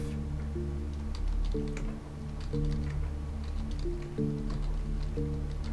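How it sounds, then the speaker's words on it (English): Typing on a computer keyboard while playing the text adventure game Zork I, heard as light, irregular key clicks over steady tonal background music. "And just keep typing again."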